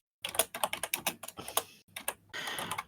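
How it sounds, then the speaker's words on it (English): Someone types quickly on a computer keyboard in uneven bursts of crisp clicks and clacks, close by and with no speech. "Typing it, putting it in now."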